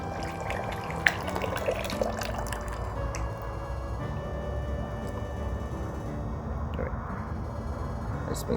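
Hot water mixed with salt and dish soap is poured into a container, a steady watery splashing and trickling that runs continuously at moderate level, with a few small drips and clinks standing out.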